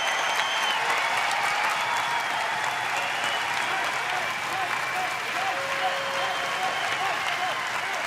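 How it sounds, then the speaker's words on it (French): Comedy show audience in Lille applauding performers, a sustained wash of crowd clapping at even strength throughout, with a voice talking over it. "On les applaudit plus fort que ça"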